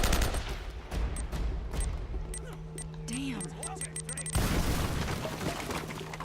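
Sniper rifle shots in the video game Uncharted: Drake's Fortune, a few sharp booming reports spaced across the span with game effects and a talking player over them.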